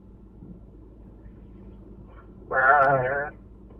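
During a phone call a person imitates a goat with a loud, wavering bleat that lasts under a second and rises suddenly above quiet line noise.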